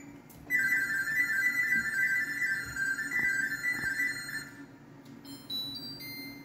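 An LG French door stainless refrigerator, model LRFCS29D6S, sends its smart diagnosis data tone as a rapid warbling, chirping string of electronic beeps lasting about four seconds, fairly clear over a low room hum, followed by a few sparse tones.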